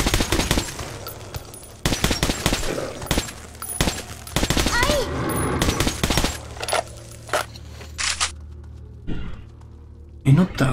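Machine gun fire in the video game Metro 2033 Redux: loud rapid bursts of automatic shots broken by short pauses, with clinking casings and game ambience between volleys.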